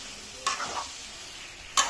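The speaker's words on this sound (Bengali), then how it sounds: "ডিম দিয়ে আমি এলোমেলো করে নেব। সবজিটা পুরো মাখিয়ে নেব।" Eggs and shredded cabbage are stirred in a frying pan, making a faint steady sizzle with two short scraping clatters of the utensil, close by and with no talk.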